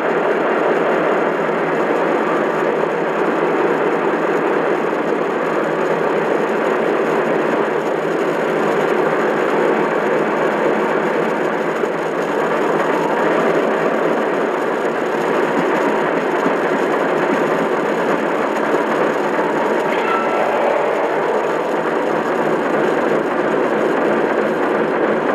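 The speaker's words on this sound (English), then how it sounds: "So now I'll lower the RPMs back down and the fan speed will decrease." Steady mechanical engine drone with whirring fans from a Lionel Vision Line Baldwin Centipede model locomotive as RPMs lower, a continuous hum that holds even and close throughout, with slight shifts in pitch and no voices.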